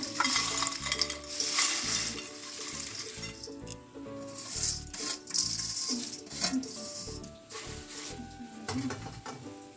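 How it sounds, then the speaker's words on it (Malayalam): Curry leaves frying in hot oil in a pan, a steady crackling sizzle with busy stirring and occasional scrapes against the pan, fairly close and continuous throughout, with no voices. "കറിവേപ്പില ഒന്ന് മൂപ്പിച്ചെടുക്കാം നമുക്ക്"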